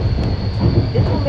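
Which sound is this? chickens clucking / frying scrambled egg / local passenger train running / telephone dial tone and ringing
local passenger train running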